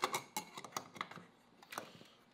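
Small radio-controlled wireless switch inside a closed box with a little antenna, clicking on and off for a 220v or 110v dust collector setup; a quick series of sharp, light mechanical clicks, close and fairly quiet, with no talking.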